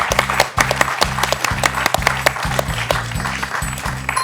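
A television quiz studio audience claps in steady, rhythmic unison for several seconds, a close, even wave of applause with no voices on top.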